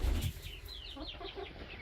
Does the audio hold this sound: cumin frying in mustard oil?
no